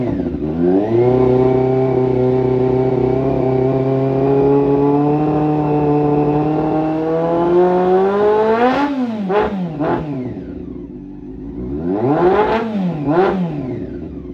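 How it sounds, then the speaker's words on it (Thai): Honda CB400 cafe racer motorcycle engine running close and loud, holding a steady idle for about eight seconds before a few sharp throttle blips and revs, then settling and revving twice more. "เครื่องนิ่งมากรอบเครื่องนิ่งมาก"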